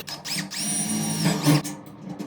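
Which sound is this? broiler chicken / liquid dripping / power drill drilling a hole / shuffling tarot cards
power drill drilling a hole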